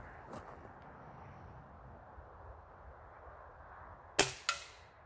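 An air rifle fires at a glass screen protector outdoors, two sharp cracks close together near the end after a stretch of quiet background hum.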